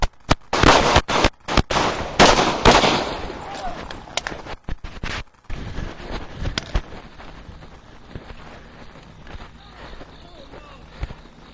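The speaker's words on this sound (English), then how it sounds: "I have been shot at and I have hit the subject" Sharp loud gunshots crack in a rapid cluster during a police confrontation, followed by shouting and scuffling voices and lower scattered noise.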